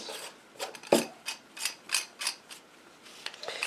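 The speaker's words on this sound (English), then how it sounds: "And screw this guy on like this." Repeated scraping, ratcheting twists of threaded plumbing parts screwing together, several rhythmic turns with a brief knock early on, close and fairly quiet.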